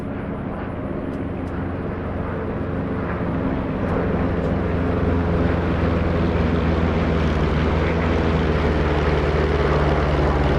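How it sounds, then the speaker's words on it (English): WWII warbird propeller aircraft in a DCS flight simulator game drone steadily from close by, a dense continuous engine roar with a faint ticking and no pauses throughout. "it's great sitting on the ground with all these warbirds around"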